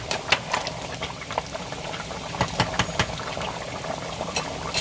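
A pot of Jamaican curry goat simmers at a slow boil, giving off soft, irregular bubbling pops and gentle liquid patter at close range, with no talking.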